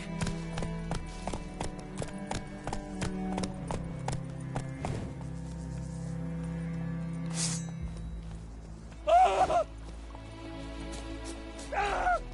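Horse hooves clip-clop in a galloping rhythm in The Witcher 3, close and steady, with short breathy snorts and a brief loud burst near the end.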